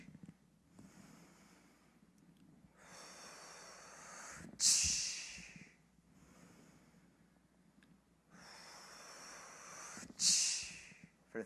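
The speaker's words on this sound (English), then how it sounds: "I exhale down to the belly button and clear the rest of the oxygen out" Deep, forceful exhalations during a guided breathing exercise, two long rushing out-breaths each ending in a sharp snort-like burst of air, separated by quieter pauses, close and alone.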